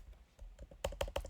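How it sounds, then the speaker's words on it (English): Keystrokes on a computer keyboard: soft, scattered taps at first, then a quick run of sharper, louder clicks near the end. Close and quiet, with no talking. "And this is where you can begin typing."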